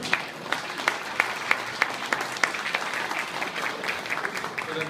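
An audience at a Colway company anniversary event applauds in a dense, steady wash, with a few sharp individual claps standing out. Faint talk can be heard beneath it.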